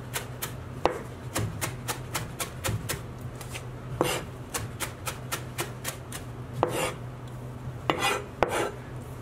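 A knife chopping a bunch of fresh coriander on a cutting board, crisp rhythmic taps in quick bursts with short pauses, close and clear with no talking.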